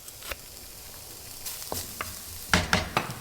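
A whole onion goes into a pan for a creamy vegan tomato pasta, giving a quiet, low sizzle broken by a few louder clattering bursts near the end as it is moved and stirred.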